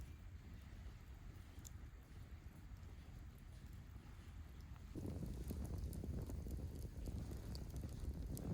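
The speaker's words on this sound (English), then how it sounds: "listening to the lake and the campfire" Campfire burning beside a lake at night during wild camping in Denmark, heard as a continuous soft crackle and hiss with scattered pops, growing denser and louder partway through, with no talk.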